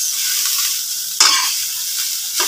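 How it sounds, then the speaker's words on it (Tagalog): Rice fries in a hot pan and is stirred constantly, giving a loud, steady sizzle broken by a sharp scrape of the spatula midway and another near the end. "So, nailagay na natin yung ating kanin. Haluin ng haluin,"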